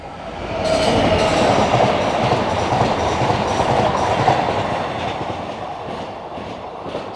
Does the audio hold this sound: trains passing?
yes